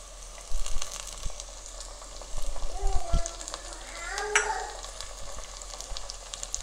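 Onions, fenugreek seeds and curry leaves fry in oil for a vanjaram fish curry, a low steady sizzle with a few louder crackles and stirring scrapes, a sharp spatter burst near the end.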